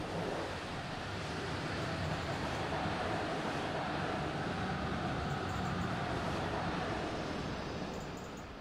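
An IC intercity train in Train Simulator, bound for Konstanz, rolls past as a steady, loud broadband rumble and rush that holds evenly throughout and eases slightly at the end.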